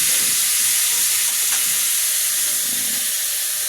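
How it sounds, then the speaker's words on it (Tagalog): Crab sautéing in a pan with aromatics, a loud, steady, broad hiss and sizzle heard close up, with no talk over it. "Igigisa na yung alimasag natin."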